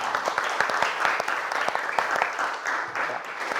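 A classroom full of students claps steadily for a classmate during an art lesson on dry drawing techniques, the dense, even applause continuing throughout with no voices over it.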